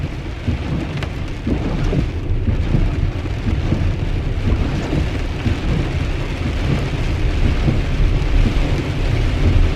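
Steady heavy rain drums on a car with low rumbling thunder, a dense continuous wash of sound throughout with no voices.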